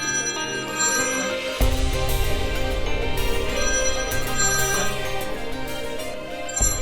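A phone ringtone plays as a repeating electronic melody over music, steady and fairly loud, continuing for several seconds.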